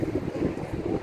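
Sea wind blows along the Jeddah Corniche waterfront, a steady low rushing roar buffeting the microphone with no voices.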